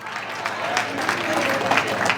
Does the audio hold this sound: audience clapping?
yes